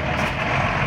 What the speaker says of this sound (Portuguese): Olha o ônibus como é alto aí.